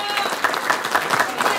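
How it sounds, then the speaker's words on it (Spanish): An audience claps for 32 union leaders who have just received diplomas at a union school certificate ceremony, a soft continuous patter of applause with voices mixed in. "Solicitamos sus aplausos para todas y todos los 32 dirigentes sindicales que hoy han recibido sus diplomas."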